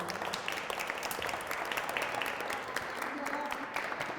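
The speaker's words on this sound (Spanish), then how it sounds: "un aplauso para Gabriela" A small group claps for a few seconds for a girl after her hand is sprayed with an airbrush at a prehistoric archaeology workshop; the applause is steady and close, with voices mixed in.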